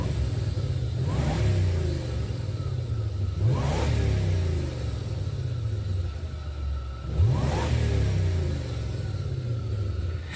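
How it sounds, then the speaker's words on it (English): A supercharged M90 Crown Victoria engine idles with a deep, steady rumble, punctuated by three sharp throttle blips that rev up and fall back, heard up close without talking. "Let's pulse the gas and see what it does."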